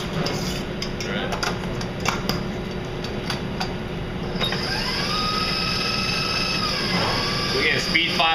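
Electric stand mixer whipping meringue at speed 5, a steady mechanical whir with the whisk rattling against the bowl, close and continuous, pitch shifting partway through, with a voice talking over it.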